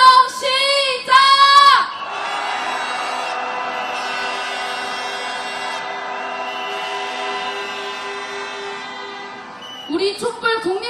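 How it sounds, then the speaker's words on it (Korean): A crowd of candlelight protesters marching through summer heat lets out a loud, drawn-out collective shout, sharp outbursts at the start giving way to a sustained roar that fades before more shouting at the end. "함성 시작."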